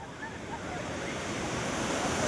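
Sea waves at a beach where people are bathing, heard as a steady, broad surf roar that swells slightly louder over a couple of seconds.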